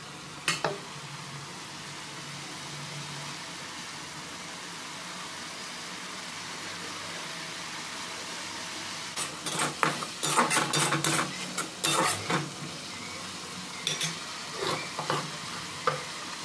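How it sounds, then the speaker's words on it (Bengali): Spice masala frying in a pan, starting as a quiet sizzle and then broken by a cluster of sharp scraping and clinking stirs from the spoon against the pan. "দিয়ে ভালো করে নাড়াচাড়া করে মশলাটা তৈরি করতে হবে।"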